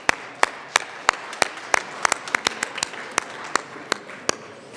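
Sparse, distinct hand claps echo in the Colorado House legislative chamber, a handful of individual claps at an uneven rhythm over a quiet room tone, fairly faint overall.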